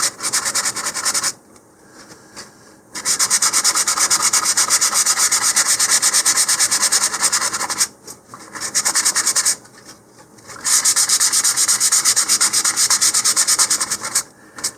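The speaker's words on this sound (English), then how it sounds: "you don't have to sand too much down, just remove that glossy layer" Sandpaper roughening the glossy surface around the fin slots of a LOC IQSY Tomahawk model rocket before epoxy, steady close scratchy strokes in long bursts separated by short pauses.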